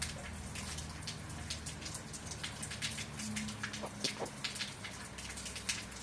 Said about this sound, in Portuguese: Teto molhado. Água caindo.